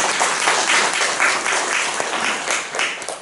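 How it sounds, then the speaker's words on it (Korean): A church congregation claps during a Sunday service, a dense, loud burst of applause from many hands that swells, holds, then tapers slightly at the end with no talk over it. "다시 한번 응원의 박수 보내주시기 바랍니다."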